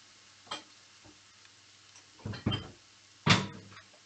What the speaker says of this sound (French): alors on va déglacer, je vais mettre du vinaigre de vin